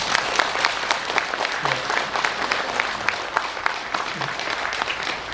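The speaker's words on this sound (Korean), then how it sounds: "여러분 우리 앞에 계시는 큰 스님들과 우리 법사님께 박수를 한번 쳐주십시오" Audience clapping at a meditation leaders' forum, honoring monks and a dharma teacher, a steady crackle of many hands throughout, fairly close and loud, with no voices standing out.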